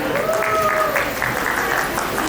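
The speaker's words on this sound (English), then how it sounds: "Can we have a big round of applause for both of them, everyone?" Guests at a sangeet wedding-music celebration clap for two performers, a loud, continuous wash of applause filling the whole moment, with a faint tonal note drifting through it.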